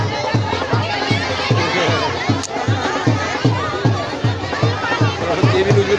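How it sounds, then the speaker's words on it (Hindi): A large crowd at a municipal ward election in Shivrajpur, Kotdwar, with dense hubbub of many voices over a steady rhythmic thumping beat and people talking close by. "शिवराजपुर में देखिए आप कितनी भीड़ हो रही है।"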